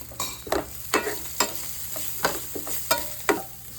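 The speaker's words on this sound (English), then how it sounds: "I'm going to saute it in the oil first." Spices sautéing in hot oil over reduced heat for an eggplant curry, with a low sizzle broken by regular scraping stirs roughly every half second, close and alone with no talking.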